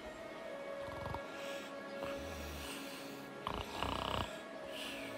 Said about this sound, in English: I cannot take Grimlock snoring.